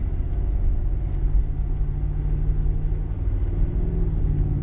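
A heavy 2014 Mercedes-Benz G550 rolls along, its engine a steady low rumble that stays even and close throughout, with no voices over it.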